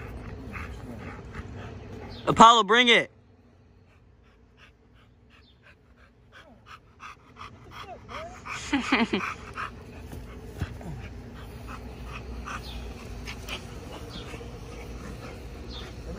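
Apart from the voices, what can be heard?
dog Apollo whimpering while playing fetch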